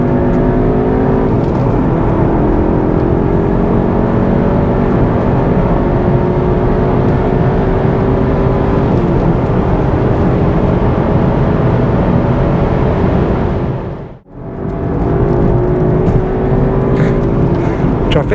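A Cupra is driven hard on a race track, chasing an Audi RS3. The engine holds a loud, steady drone with rising tones, then cuts briefly as if on a gear change before pulling strongly again. There is no talk.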